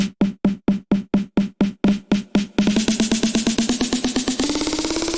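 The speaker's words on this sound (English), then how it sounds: "one more thing I have in a build-up is my very typical build-up snare, which sounds like this" A snare drum build-up: evenly spaced hits that double in speed and then roll faster and faster, rising slightly in pitch toward the end.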